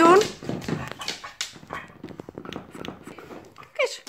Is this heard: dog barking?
yes